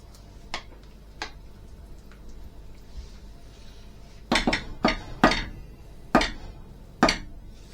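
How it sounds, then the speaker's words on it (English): Wild rabbit tagine, Moroccan style, gets stirred in a pot, with sharp metallic clinks and knocks of a utensil against the pot, a few isolated at first and then a quicker cluster, close and fairly quiet. "Just going to give this a little stir."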